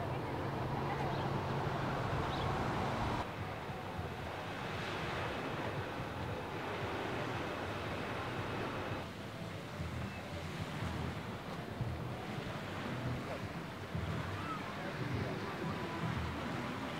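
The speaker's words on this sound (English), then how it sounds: "Here we are at the calm waters of the shoreline" Calm sea waves wash along the Sharm el-Sheikh shoreline on the Sinai coast of Egypt. The surf is a soft, steady wash with gentle swells and wind buffeting the microphone, and no sharp breakers.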